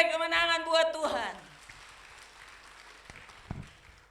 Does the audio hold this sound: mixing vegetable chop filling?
no